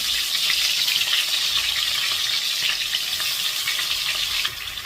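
Eggplants (brinjal) frying in oil over a medium flame give a steady, loud sizzle that crackles continuously without a break, close up, with no talk.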